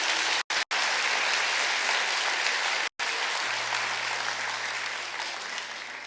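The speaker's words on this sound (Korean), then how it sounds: "우리 큰 박수로 환영하도록 하겠습니다." A church congregation at Sunday worship applauds loudly and steadily to welcome three new families, a dense continuous wash of clapping that breaks off briefly twice before carrying on.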